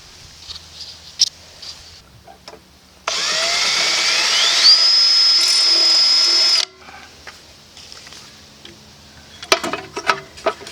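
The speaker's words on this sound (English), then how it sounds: "I'm going to drill new holes here." A power drill boring new holes in the pull starter of a Troy-Bilt chipper with a Briggs & Stratton engine, one continuous burst of about four seconds, loud and close, with quiet handling noises before and after.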